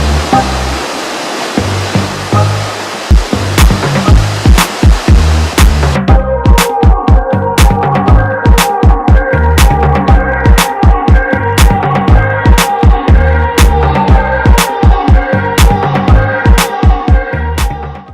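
Multnomah Falls in Oregon, a tall waterfall roaring as a loud, continuous broadband wash of falling water, with repeated sharp clicks and thumps over the steady rush later on.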